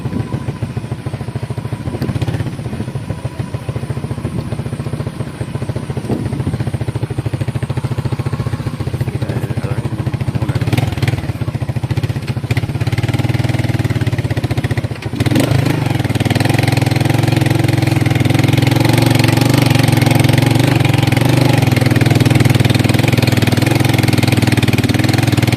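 A motorcycle engine idles steadily up close, a low chugging rumble with some clattering, continuing without a break throughout.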